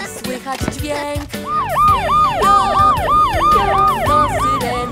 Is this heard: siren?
yes